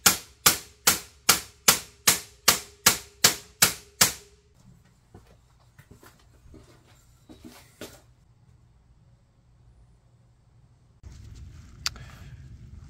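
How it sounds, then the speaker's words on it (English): Ten sharp, evenly spaced metal strikes ring out up close while 16 gauge sheet steel is bent into a lip for a welded body panel, then give way to a few faint clanks and handling noises. "And I'm just bending it right now because I need a lip to kind of fold in and under some of the new metal that I put in place there."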